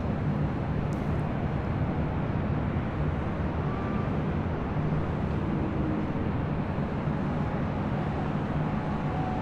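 A Boeing 777 airliner arriving at LAX produces a steady, broad engine roar that holds at an even loudness from start to finish, without any voices over it.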